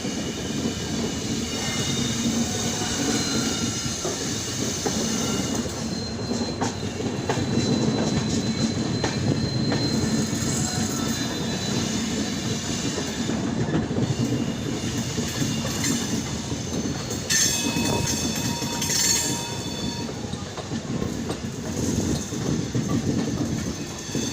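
A train rolls around the curve at Katihar railway junction on the line toward Siliguri, a loud continuous close rumble with rhythmic wheel clatter over the rail joints and intermittent high metallic squeals from the wheels.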